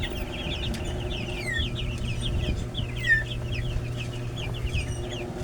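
Broiler chickens in a pen cluck and chirp repeatedly in overlapping calls over a low steady background hum, moderately close.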